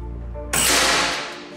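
A single shot from a Daystate PCP air rifle cracks out sharply and loud, its burst fading over about a second against a steady low background tone.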